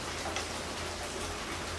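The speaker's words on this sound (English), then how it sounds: "Sounds like it's raining, Jeff." Steady rain drumming on a tin roof, a dense even hiss of drops with a faint low hum underneath, continuous and fairly close throughout with no voices.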